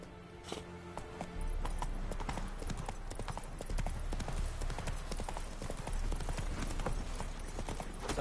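Roach, the horse in The Witcher 3, breaks into a gallop with loud, close hoofbeats in a fast, even clip-clop that keeps going to the end, layered over game music and ambience.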